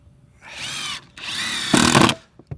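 A power drill drives screws into deck boards during deck repair, with two whirring bursts of about half a second each and a louder, rougher grind at the end, close and loud with no talk.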